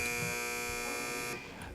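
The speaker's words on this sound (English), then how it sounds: "First team to push its buzzer answers first." A quiz buzzer sounds as a loud, flat electronic tone for over a second, then cuts off, leaving faint room noise.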